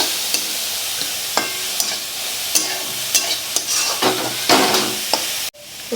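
Momo vegetable filling stirred in a pan over a steady close sizzle, with repeated scraping spoon strokes and light clicks against the pan, ending in a sudden cut.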